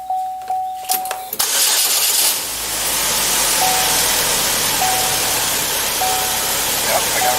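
A car engine cranks with a few short starter bursts, catches, and settles into a steady idle, with faint beeping from a scan tool or dashboard chiming intermittently over the running engine.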